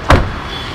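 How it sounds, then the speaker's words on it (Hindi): A car door opens with a single short, loud thunk near the start, followed by quiet background ambience at an outdoor park picnic. "वेदिका ने खोल लिया दरवाजा।"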